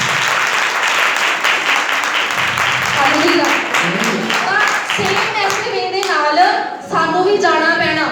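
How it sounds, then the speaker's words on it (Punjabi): A church congregation at a Sunday service applauds with dense, sustained clapping, loud and close, as voices rise over it and a cry of praise carries through the last seconds. "ਤਾੜੀਆਂ"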